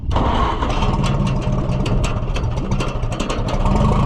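An Oliver 550 gas tractor engine cranks and catches, running loud and rough with a steady chugging rhythm close up throughout.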